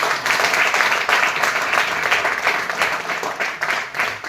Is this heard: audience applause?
yes